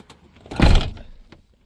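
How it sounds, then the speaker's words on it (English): Campervan door fitted with new locks being opened, heard as a single close, solid thunk with a short mechanical clatter, followed by a faint click. "if I try and open this door, that's all it's going to open"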